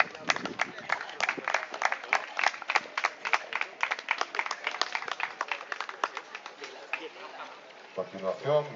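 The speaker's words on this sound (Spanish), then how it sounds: "Un aplauso, por favor." An audience at a Spanish molosser dog show claps steadily for the best-of-breed Dogue de Bordeaux, a dense patter of applause that runs for several seconds before a voice starts speaking at the end.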